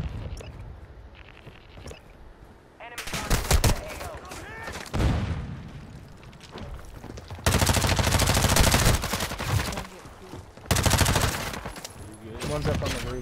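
Rapid video game gunfire in loud bursts of automatic shots, with quieter gaps between volleys, while a player talks over the action.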